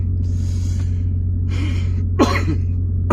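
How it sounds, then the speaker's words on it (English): A person coughs several times close to the microphone, short harsh bursts with breathy gaps, over a steady low electrical hum. "Sorry about that cough"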